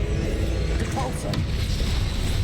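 A Repulso spell blast from the Hogwarts Legacy video game, a sustained booming, artillery-like rumble with a sharp crackling burst midway and a short swishing trail, loud and dense throughout.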